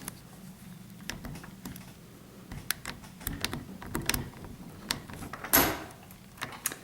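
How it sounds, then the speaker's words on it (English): A paper clip rake scraping over the pin tumblers of a lock cylinder makes sparse, faint metallic clicks and ticks, then one sharper, louder snap as the lock pops open, followed by a few more light clicks. "We have just open that lock. As you can see, you heard it pop open."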